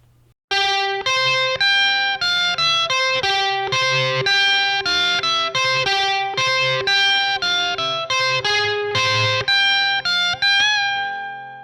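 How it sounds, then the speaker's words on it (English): Distorted lead electric guitar line, a steady run of picked single notes over a repeating droning pitch, loud and close, played alone with no speech. "the second time, you hear the lead guitar come in"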